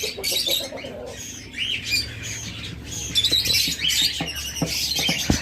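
Caged pet birds, including lovebirds of many colour mutations alongside cockatiels and budgerigars, squawk and chirp constantly in a noisy, busy chorus, with sharp calls overlapping throughout and no talking.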